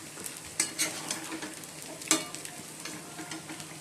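Chicken stir-fried kosha-style in a pan sizzles softly while a spatula scrapes and stirs in uneven strokes, with a couple of sharper clanks, close and fairly quiet.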